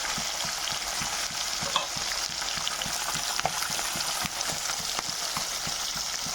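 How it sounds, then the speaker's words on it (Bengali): Pieces of Bhola fish frying in a pan give a continuous close sizzle and crackle, with a regular series of soft taps and scrapes running under it and no voices. "ভাজা হয়ে গেছে মাছগুলো, কত সুন্দর।"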